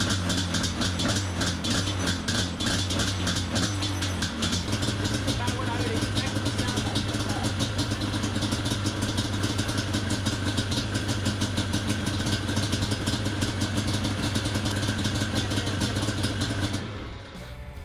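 A Yamaha Banshee 350 ATV two-stroke engine runs steadily and loudly up close with the choke off, then cuts out abruptly near the end as it dies.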